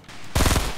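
A single burst from a burst-fire weapon in a video game: a tight cluster of four or five fast, loud shots that cuts in suddenly.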